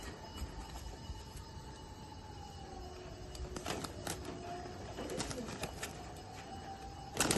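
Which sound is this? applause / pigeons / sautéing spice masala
pigeons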